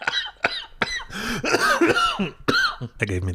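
Repeated harsh coughs in a series of sharp bursts, close and loud, with a spoken voice breaking in between the coughs.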